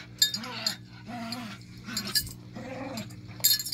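Huskies and a small dog playing indoors, with rhythmic grumbling growls and whiny play vocalizations in short bursts, fairly quiet and close, with a faint clink near the end.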